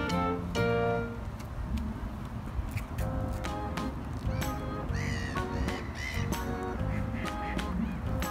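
Seagulls calling by a river with ducks nearby, a series of sharp, clear cries and honks repeating irregularly over a steady background of engine or water noise, with faint voices at times.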